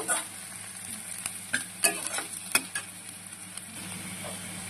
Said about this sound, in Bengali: আর এই দেখো আমার পেঁয়াজগুলো হালকা করে ভাজা হয়ে গেছে, আর একটু সামান্য ভাজবো।